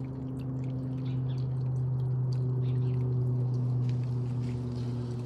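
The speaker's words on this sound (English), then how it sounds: "there is just splashing in the water, which makes a nice sound" A garden stream fed through a gate valve splashes steadily onto a rock, a soft continuous trickle sitting under a constant low mechanical hum.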